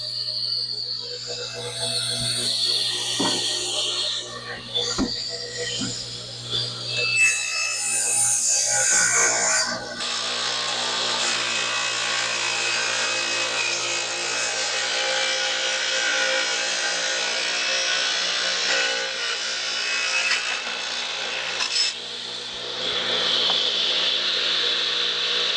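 A saw cuts the edge off a fir board for Piper Super Cub wing tip bow staves, giving a loud, continuous, buzzing cutting drone that runs steadily for most of the stretch after some rough, uneven scraping and handling at the start.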